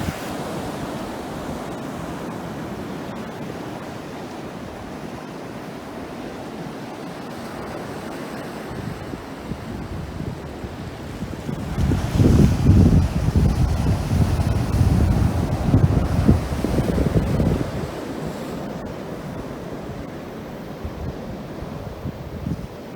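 Waves and wind at a small beach make a continuous wash of surf and wind rumble, with a stronger surge swelling in the middle before settling back down.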